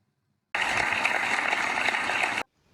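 A burst of loud, dense audience applause at a Jaisalmer online poetry gathering, welcoming a poet; it starts abruptly, holds steady for about two seconds, then cuts off sharply.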